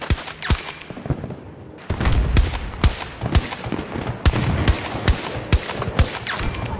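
Rapid gunfire in the Battlefield 2042 video game, with repeated sharp shots and bursts cracking close by, a dense and loud firefight that runs almost without pause.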